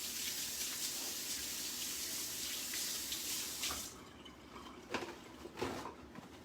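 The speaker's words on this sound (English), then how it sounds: "So I'm going to rinse my hands off." Tap water runs steadily into a kitchen sink while hands are rinsed underneath, then the flow stops and a few drips and splashes follow, close and fairly quiet with no voices.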